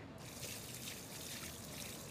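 Water poured onto a permeable parking lot surface seeps through and makes a steady, faint, hissing trickle. It runs continuously throughout, with no speech.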